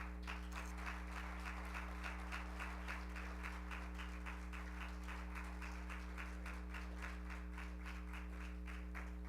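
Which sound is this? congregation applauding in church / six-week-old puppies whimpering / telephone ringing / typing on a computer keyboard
congregation applauding in church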